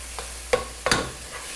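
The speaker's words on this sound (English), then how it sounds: "And I'm just going to stir that around" A spoon stirs a soup base with garlic and red pepper in a pot over heat, giving a few soft scraping strokes against a steady low sizzle.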